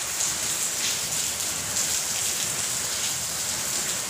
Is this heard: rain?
yes